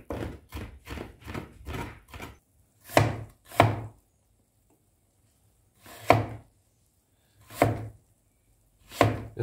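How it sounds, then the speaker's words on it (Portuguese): Knife chopping onion, tomato, ginger, garlic and bodinha pepper together on a board: a quick run of steady taps, then several heavier, spaced chops with quiet gaps between them, close and clear. "picou a cebola"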